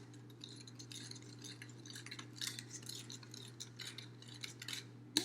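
A spoon stirs a tablespoon of salt into a cup of water until it dissolves, making quick, irregular light clinks and scrapes against the container, close and fairly soft, with no talking.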